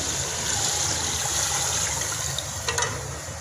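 Water is poured into a pot of soaked rice for chicken pulao, a steady close splashing stream with a few small clinks toward the end.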